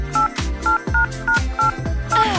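A telephone number being dialed: a quick run of about seven DTMF keypad tones in steady rhythm, loud and close with no talk.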